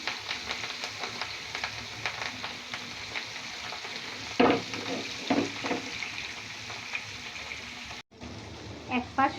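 Rohu fish pieces fry in hot oil, a moderate sizzle with sharp spatters and clatters from turning, the sound cutting off briefly near the end before resuming, with no clear speech.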